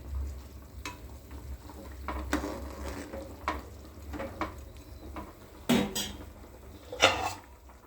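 A spoon stirs a thickening pulusu stew in a cooking pot, with quiet scraping and scattered sharp clinks against the metal over a faint low background.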